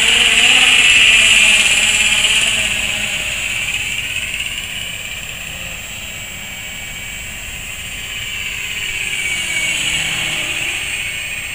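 A short electronic low-battery warning tone chirps over the steady whine of an ultralight electric RC Mosquito helicopter with dual rotors and homemade wooden moulding blades, loudest in the opening seconds before the motor hum settles.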